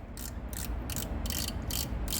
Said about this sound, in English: I'm gonna tighten it with the ratcheting stop